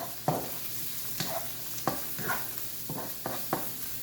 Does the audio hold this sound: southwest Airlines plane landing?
no